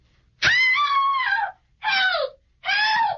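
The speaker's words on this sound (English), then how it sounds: "What was she screaming about, mister?" A woman in a radio drama screams three times for help, one long piercing cry followed by two shorter shrill ones, loud and close against silence.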